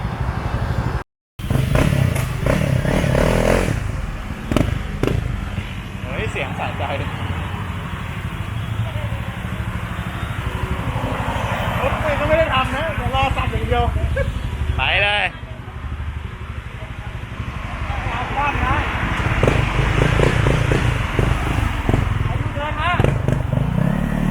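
A Honda CRF300 Rally motorcycle with a modified, gutted exhaust packed with fiberglass idles and revs repeatedly, loud, crackling and popping, close by, with a brief silent gap early on.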